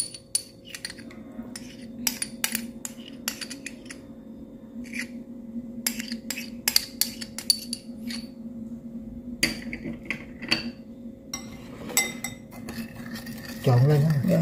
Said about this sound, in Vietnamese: Rồi mình trộn nha, khuấy lên cho nó đều.